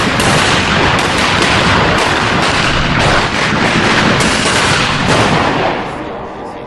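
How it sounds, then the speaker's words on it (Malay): Seed pods burst open explosively in a dense, continuous barrage of loud cracks and pops, like rapid fireworks, fading slightly at the end. "Ini dipanggil pencaran biji benih secara letupan"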